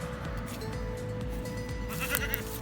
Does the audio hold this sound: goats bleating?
yes